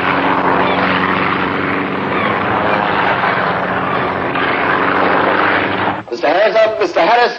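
Aircraft engine droning loudly and steadily as the machine descends, a dense propeller-like roar in an audio drama that cuts off abruptly, followed by someone speaking.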